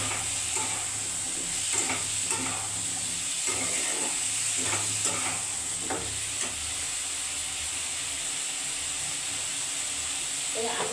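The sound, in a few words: potatoes sautéed with ground spice paste and salt in a pan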